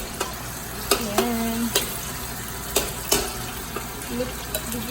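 Garlic and onions sizzling in a large wok, with a steady hiss of frying broken by several sharp scrapes and clacks of a utensil stirring; a voice speaks briefly.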